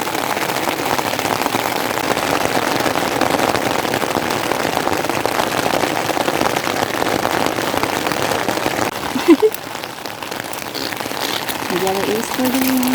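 A downpour keeps up a steady hiss on Buhawi Hill in Pio Duran, Albay, while people talk over it and a brief knock cuts through near the end.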